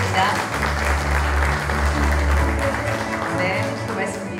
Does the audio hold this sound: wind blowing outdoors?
no